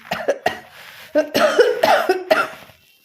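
A series of harsh, close coughs in irregular bursts, some paired, with short pauses between them.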